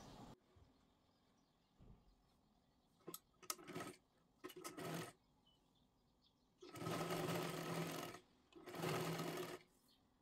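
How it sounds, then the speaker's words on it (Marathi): Sewing machine stitching a strip onto a size 42 katori blouse, sounding in short bursts early on, then two long steady runs of rapid whirring stitches, close and loud in a quiet room. "इथे थोडंसं बंद करून घ्या आणि नंतर वरती पूर्ण शिलाई मारायची आहे"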